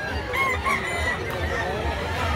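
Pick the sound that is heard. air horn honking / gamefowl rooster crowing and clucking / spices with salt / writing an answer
gamefowl rooster crowing and clucking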